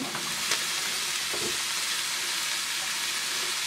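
Eggs for a chicken, bacon and cheese omelet sizzle steadily in a pan over medium-high heat, a close, continuous frying hiss with a faint clink of utensil partway through and no talking.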